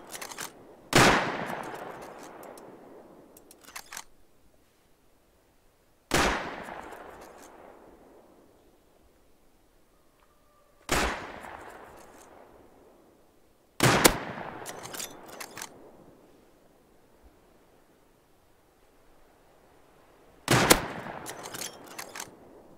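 Gunfire in the video game Rust, coming as five separate loud bursts several seconds apart, each a sharp crack that decays away into near silence before the next.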